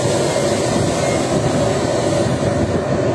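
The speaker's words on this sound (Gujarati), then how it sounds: "ઓલી બીજી ટ્રેન જાય છે હવે." A train rolls past at a station in Switzerland, a steady loud rumble of wheels on rails that holds evenly for the whole stretch with no voices over it.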